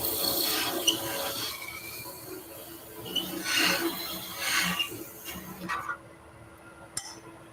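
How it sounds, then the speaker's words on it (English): Skew chisel cutting a wooden spinning top on a lathe: close, uneven scraping and rasping swells with faint clinks, several rising and falling passes before the cut stops abruptly into near quiet with a final sharp tick. "I'm going to do that with the skew instead of the parting tool."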